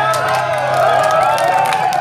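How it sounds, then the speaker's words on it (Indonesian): Spectators applaud and cheer throughout an indoor volleyball match in Indonesia, a steady crowd roar with scattered shouts beneath continuous commentary. "Tepuk tangan para penonton."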